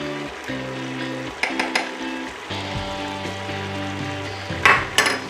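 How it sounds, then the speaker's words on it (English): Butter and flour frying in a pot as the roux base for ham potato cheddar soup, a steady close sizzle with occasional spoon scrapes and clinks against the pot. "So what I'm going to do is melt down this butter really good. And then I'm going to add my flour."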